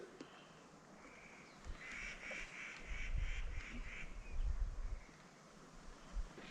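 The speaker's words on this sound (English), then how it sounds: "Listen to all those birds." Ducks or geese quacking and honking in a lively cluster of calls near a mountain lake in Great Basin National Park, moderately close, with soft outdoor ambience between the bursts.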